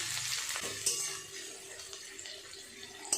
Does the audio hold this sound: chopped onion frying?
yes